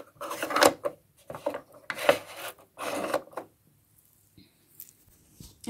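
A tiny drawer on a vintage Sylvanian Families toy caravan slides open and shut, giving several short scraping rasps close by, then a few faint clicks and taps.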